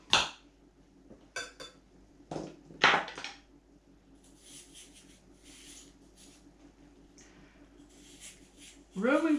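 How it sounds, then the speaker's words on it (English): A cucumber is peeled and chopped by hand, giving several sharp knife scrapes and knocks on a board, a few at the start and others scattered through, mixed with quieter rubbing and a person speaking between the cuts. "And then we peel and chop a cucumber."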